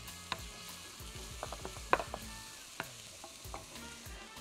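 A large, finely chopped onion fries in two big spoons of oil, giving a faint, low crackle punctuated by scattered sharp clicks of a utensil against the pan.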